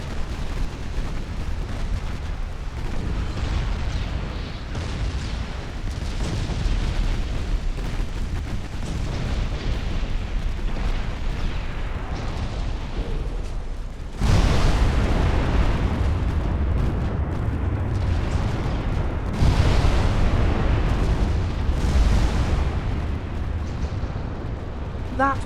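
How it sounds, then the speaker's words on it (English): Ammunition detonates aboard a warship in the naval strategy game Ultimate Admiral Dreadnoughts, producing a loud, continuous roar of explosive rumbling with heavier blasts surging around the middle and again near the end. "Oh, ammo detonation, not good."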